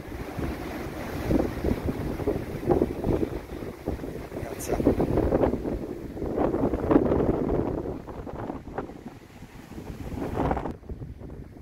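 Strong, gusty wind roars and buffets the microphone continuously on a clifftop at Peniche, Portugal, with a voice speaking briefly over it.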